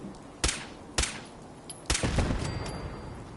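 Gunfire in Fallout 4 aimed at a raider and turrets: three sharp, loud single shots spaced about a second apart, followed by a rumbling tail and lingering reverberation.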